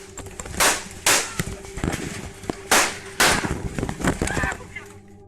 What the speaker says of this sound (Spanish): con toda claridad escuchan los plomazos